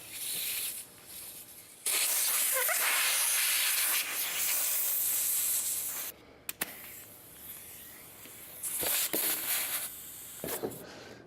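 Compressed air hisses into a car tire being inflated to 60 PSI after a sealant coating, coming as loud, steady bursts separated by short pauses and a few clicks from the valve fitting.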